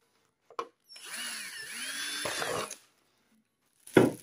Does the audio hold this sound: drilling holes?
yes